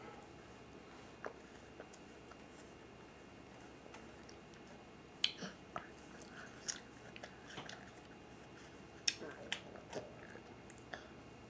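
A dog crunching pieces of apple, heard as scattered sharp bites and crunches at close range over a quiet background, with sparse clicks and a few louder crisp crunches in the middle and toward the end.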